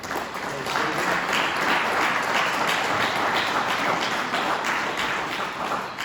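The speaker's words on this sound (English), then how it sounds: "I want to give them a round of applause for." A room of members at a cooperative's annual meeting breaks into loud, steady applause, many hands clapping densely and continuously from start to finish without any talk.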